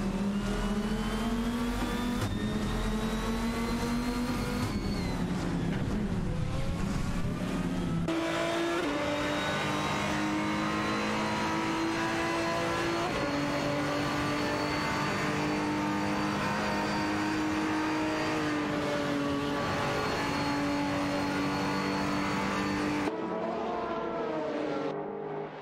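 Race cars in an AI racing video game roar continuously at high revs, with engine notes rising and falling through gear shifts and corners, loud and steady with no voices.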